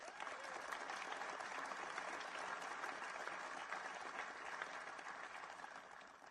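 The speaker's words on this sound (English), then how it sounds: "give yourselves and your unions a round of applause" Steady, dense clapping from a large crowd, loud and sustained throughout without any break.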